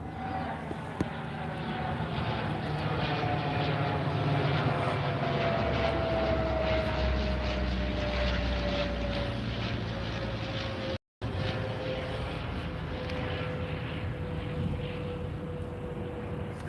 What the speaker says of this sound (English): Spy plane, yeah, eh?